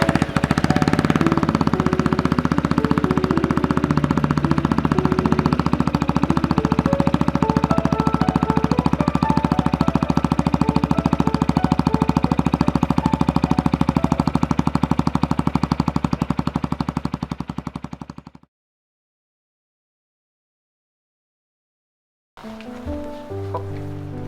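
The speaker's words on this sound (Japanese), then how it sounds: "それでは最後にマフラー音を聞いてみましょう。" A Mutt Motorcycles Hilts 250 exhaust running close up, a steady rapid staccato putter at idle for most of the clip, then silence, followed by a brief restart of the engine's burble.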